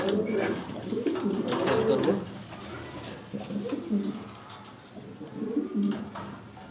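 Pigeons at an exhibition, among them a high-grade Maltese female, coo in low rolling phrases that swell and fade in waves. Faint voices murmur in the background.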